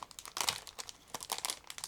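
A sealed plastic bag of model kit sprues crinkles and crackles as it is opened, a quick string of sharp, close rustles and crumples in irregular bursts.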